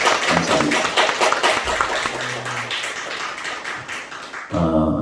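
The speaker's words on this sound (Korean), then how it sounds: "격려의 박수 축하의 박수로 축하해 주셔서 감사합니다." A church congregation gives congratulatory applause, a fairly close, busy patter of clapping. A voice talks over it, and after a brief dip near the end the talking picks up again.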